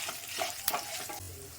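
Dried red chillies fry in hot oil for an onion tomato chutney, giving a brief sizzle with a sharp stirring scrape partway through.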